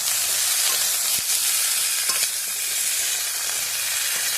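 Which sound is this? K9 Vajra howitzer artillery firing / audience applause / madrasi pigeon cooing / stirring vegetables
stirring vegetables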